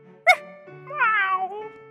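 A fat cat in a children's phonics storybook reading gives one clear, drawn-out meow, preceded by a short sharp sound, over a soft steady musical tone.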